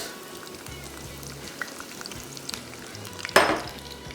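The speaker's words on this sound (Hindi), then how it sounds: "और प्याज की भुनाई" Onions frying in hot oil in a home-style Indian kitchen, a low steady sizzle with soft clinks of a spoon stirring the pan and one sharper scrape near the end.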